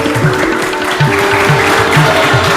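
Applause from an audience at a Karmad Gurukul children's assembly, cheering students for their test marks, comes as loud, steady clapping with a regular rhythmic pulse throughout.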